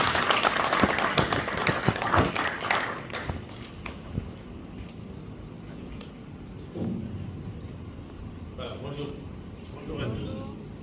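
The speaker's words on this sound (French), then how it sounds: "Sous vos acclamations, s'il vous plaît." An audience at a scientific conference claps to welcome professors to the stage, a burst of applause that fades after a few seconds into footsteps and quiet murmuring, with speech intermittently.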